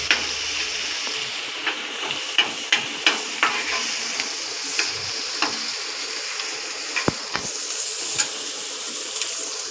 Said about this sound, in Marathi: कांदा जरा चांगला लाल होऊन घेऊया.